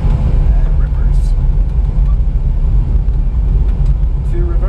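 Boeing 737-800 engines roaring in reverse thrust in a flight simulator after touchdown on Kai Tak runway 13, a loud, steady, deep rumble that holds unbroken throughout.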